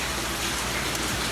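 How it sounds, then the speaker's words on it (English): Steady rain falls over the ocean, a dense, even hiss with no pauses and no voices. "it's super pretty, like with the rain in it and everything"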